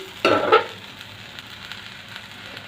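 Bread pulao with cashews, raisins, coriander and a little sugar is stirred in a hot pan. A quick scrape and sizzle burst comes at the start, then settles into a faint, low frying hiss.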